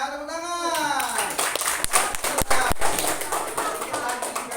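A classroom of students claps together after a teacher's cue, a burst of rapid, slightly uneven hand claps under a brief voice at the start, lasting a few seconds.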